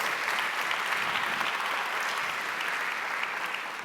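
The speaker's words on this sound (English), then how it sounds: "big round of applause" Audience applause, a fairly faint but continuous wash of many hands clapping that stays steady for several seconds.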